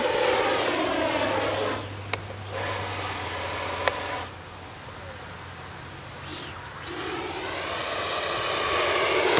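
A small FMS Avanti S 90mm RC jet engine whines loudly overhead, its pitch and volume rising and falling as it passes, dipping quieter midway before surging back up.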